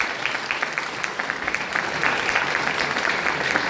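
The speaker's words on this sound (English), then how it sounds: "Please give a clap." Engineering students clapping in a classroom, scattered separate claps at first that build into fuller, denser applause by the end.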